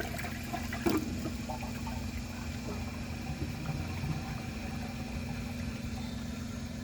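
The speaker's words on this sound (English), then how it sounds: "let's move on to the flush tests and see how it does with a dry bowl" A 2003 Kohler Serif toilet flushes into a dry bowl, a faint steady rush of water beneath a constant low hum, with one brief sharp knock near the start.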